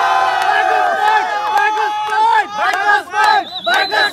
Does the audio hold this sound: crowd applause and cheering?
yes